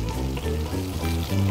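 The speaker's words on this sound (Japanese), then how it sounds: "真ん中のところを焼き色がつきやすくなるように焼いていきます。" A chicken thigh sears skin-side down in a pan as it is swirled around, giving a steady frying sizzle over a low, tonal hum.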